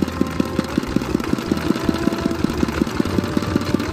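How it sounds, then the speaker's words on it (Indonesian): A Dongfeng 16 PK diesel engine drives an NS80 irrigation water pump beside a rice field. Its loud, close, rapid and even chugging pulses run steadily throughout, with no talk. "Ini untuk mesinnya pakai diesel Dongfeng"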